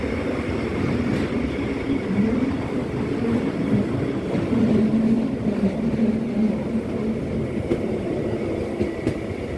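The Bernina red train rolls through the streets of Tirano, a loud, close, steady rumble with wheel clatter and rattling cars that continues unbroken throughout.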